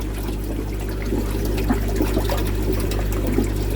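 A garden hose runs water into a pond filter with the pump valve shut off, giving a continuous trickling pour over a steady low hum, with no talk.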